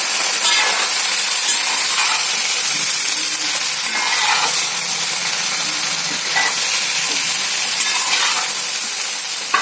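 Bottle gourd curry fries in a pan with a steady loud sizzle and hiss, while a spoon scrapes and stirs through it in repeated passes, close up and without talk.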